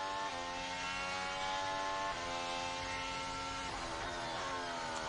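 A Williams Formula 1 car engine screams at high revs during practice at the Monaco Grand Prix, its pitch stepping through gear changes in a loud continuous whine.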